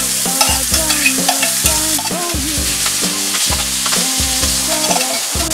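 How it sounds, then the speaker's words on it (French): Meat for kebab fries in hot oil with a loud, close, continuous sizzle and crackle, punctuated by rhythmic stirring and scraping throughout. "on va maintenant passer à la cuisson de la viande. En même temps, je mets à chauffer mon huile."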